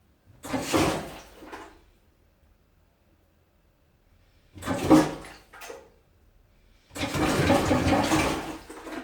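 A German toilet flushing, worked by a foot pedal that must be held down to keep the water running: three separate bursts of rushing water, each cut off abruptly, with silence between them and the last burst the longest and steadiest.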